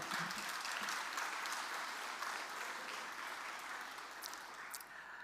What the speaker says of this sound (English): let's give a hand of applause to Teaching and Learning portfolio